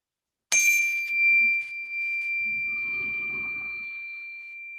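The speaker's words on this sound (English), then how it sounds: "You will hear 3 chimes to begin." A meditation chime strikes once with a bright, clear ring, then a second softer tone, and both sustain and slowly fade in a quiet room with no talk.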